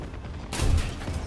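A tank cannon shot from a Panzer III in War Thunder, one sudden loud blast after a quiet start, with a heavy low boom that rolls on briefly.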